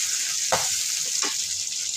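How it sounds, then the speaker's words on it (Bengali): Onions fry in a pan, giving a continuous close sizzle with two brief scraping stirs of a utensil partway through. "এখন আমি পেঁয়াজটা ভেজে নিব।"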